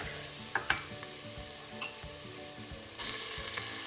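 Garlic and ginger sizzle with golden fried onions in a pan for a vegan kadhi pakora, a quiet steady frying hiss broken by a few light stirring scrapes and a louder burst of sizzle near the end.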